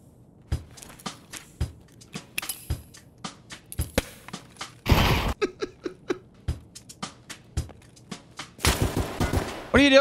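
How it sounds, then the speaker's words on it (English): Pea shooter gunfire in a video game: a rapid series of sharp, close shots fired in uneven bursts, with a few louder dense volleys mixed in. "Shooting a pea shooter at a fucking juggernaut."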